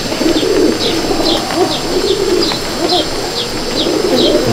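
Tutu Madrasi (Chennai) pigeons in a loft in Andul, Howrah coo repeatedly in soft overlapping rolls, with a continuous buzz of background noise underneath and no voices.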